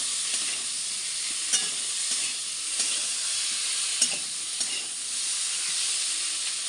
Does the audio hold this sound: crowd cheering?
no